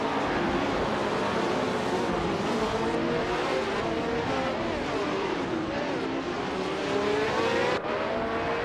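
Race cars in a video game, led by a classic 1967 Ferrari 312, with several engines revving and droning together in a steady, continuous rising-and-falling whine at close range, alongside a faint voice.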